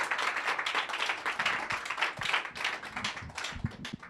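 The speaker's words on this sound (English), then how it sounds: "let's give Mark another round of applause" Audience applause at a drum clinic, a steady wash of many hands clapping close by for the full length, with a few sharper individual claps standing out near the end.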